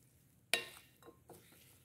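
A vegetable salad is tossed in a bowl: one sharp clink of a utensil against the bowl, then a few soft, faint rustling movements.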